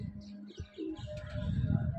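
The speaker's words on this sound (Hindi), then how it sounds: "अभी कबूतरों को दाना डालने का टाइम हो गया है।" Pigeons cooing at feeding time, soft throaty coos close by, repeated in short bursts over low rumbling flutter and background noise.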